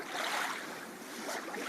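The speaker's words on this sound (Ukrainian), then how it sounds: "Море, правильно, це хвилі." A recording of sea waves gives a soft, continuous rush of surf, fairly quiet and steady, with a slight swell toward the end. No one speaks.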